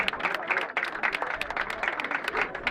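An audience applauding at a ceremonial opening event in Luxor, Egypt, with a dense, even wash of clapping from many hands that lasts the whole time at moderate volume.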